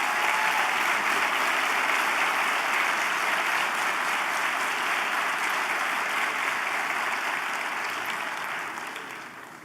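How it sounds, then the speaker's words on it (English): Sustained applause from a town hall audience on civil rights, a dense steady roar of many hands clapping at close range for nearly ten seconds before it begins to thin and fade at the end. "can we give a round of applause to Congressman John Lewis?"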